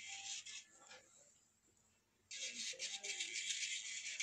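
A small rotary nail drill sanding a fingernail grinds with a high, rasping whir in two bursts, broken by a short quieter pause.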